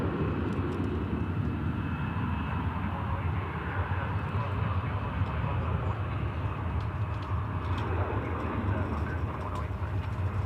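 An airliner taking off from a runway at DFW airport, a continuous loud engine roar heard from a distance, with faint radio chatter in the background.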